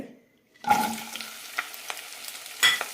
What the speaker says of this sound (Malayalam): വെണ്ടയ്ക്ക് മുറിച്ചെടുത്തിട്ടുണ്ട് ഇത് വഴറ്റിയെടുക്കാം